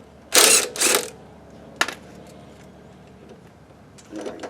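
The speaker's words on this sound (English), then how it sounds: "let's go ahead and take the sway bar link off here" Ratchet wrench clicking as a sway bar link is removed on a 1999-2004 Jeep Grand Cherokee, a few quick loud ratcheting bursts close by with quieter gaps between.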